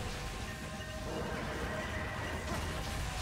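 A horse in the video game Monster Hunter Freedom Unite for iOS whinnies over clip-clopping hooves and a constant background rumble, moderately loud, with no talking.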